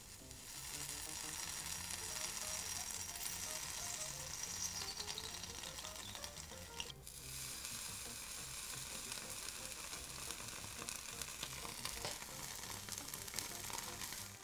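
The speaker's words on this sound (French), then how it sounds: "On va goûter une délicieuse saucisse coupée au couteau brûlant." A sausage cut with a red-hot knife sizzles continuously and loudly, a dense crackling hiss with a brief sharp break partway through, and no speech.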